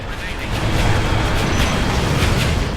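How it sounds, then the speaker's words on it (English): A giant special-weapon bomb blast in the aerial combat video game Ace Combat Infinity produces a loud, sustained roaring rumble that fills the whole clip with continuous, dense noise. "This giant explosion is somebody's special weapon."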